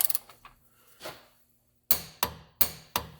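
A punch is hammered against a stubborn CV axle nut on a 2015 Kia Forte 5 during wheel bearing work: a few light taps, then four hard, ringing metallic blows at a steady rhythm, close and with no talking.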